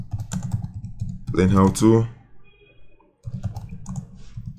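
Computer keyboard typing clicks in short bursts at close range around someone speaking briefly.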